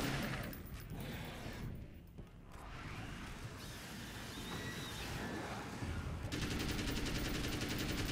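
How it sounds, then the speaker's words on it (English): Fairly quiet, sustained rapid bursts of assault rifle fire in the action game Alan Wake's American Nightmare run almost continuously, with brief dips in intensity, and no voices. "I'll just shoot you with my assault rifle"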